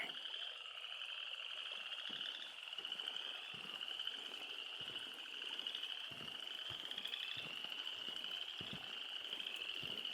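A dense chorus of frogs croaks and trills continuously, steady and moderately loud, with no voices present.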